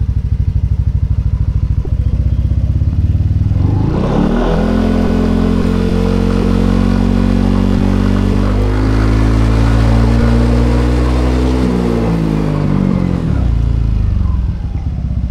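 A Yamaha NMAX scooter fitted with a Prospeed standard racing exhaust idles with a steady, deep, soft bass tone, then rises into a gentle light throttle rev before settling back down, close and continuous with no talking.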